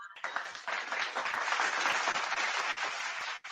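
A round of applause breaks out on a sports podcast, steady clapping from several people filling about three and a half seconds before cutting off abruptly.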